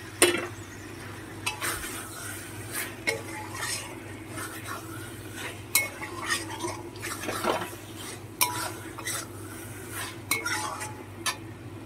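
Fried potatoes and eggplant stirred into a sizzling pan of cooking lotte fish, with a steady frying hiss under repeated scrapes and clinks of a utensil against the pan.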